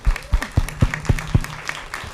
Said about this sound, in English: Please, a round of applause for Satin.